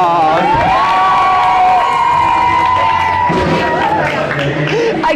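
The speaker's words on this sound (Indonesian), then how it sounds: "Oke, tepuk tangan dulu dong." Futsal supporters at a church futsal championship for Central Java and Yogyakarta roar and cheer loudly throughout, with shouting voices and whoops in a dense, continuous crowd din.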